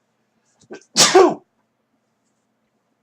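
A single close sneeze with a short sharp intake of breath just before it, loud and abrupt, then silence.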